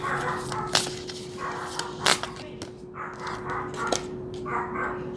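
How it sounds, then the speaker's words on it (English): A small chihuahua barks sharply several times in quick, irregular yaps, fairly close, over a steady background hum. "I don't know if you can hear it barking."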